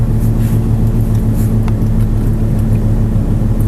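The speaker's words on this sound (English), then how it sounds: "going to give you a little bit of gas here" An Audi R8 sports car engine runs loud and close in a steady, throaty rumble with a strong low drone throughout.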